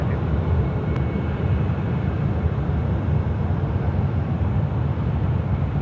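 A jet airliner taxiing at Sydney Airport in the evening, heard as a continuous low engine roar and rumble at moderate distance, steady throughout with no voices.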